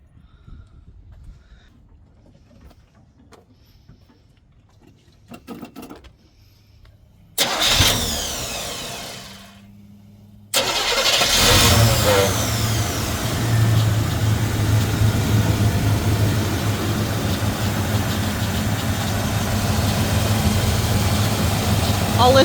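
A 1977 Chevy K20 Custom Deluxe truck engine cranks and catches after quiet handling noises, then settles into a loud, steady mid-pitched idle close by.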